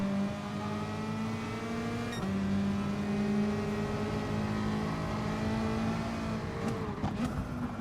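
A race car engine drones at the Nürburgring under heavy braking, a steady close tone with the pitch dropping, then a brief shift as revs change near the end.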